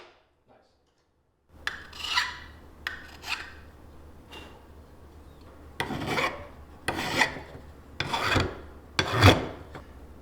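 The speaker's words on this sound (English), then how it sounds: "I spent some time with an assortment of files to remove that excess solder" Steady rasping strokes of metal files scraping excess solder off a brass katana fitting, a series of close, loud scrapes repeated in bursts after a quiet start.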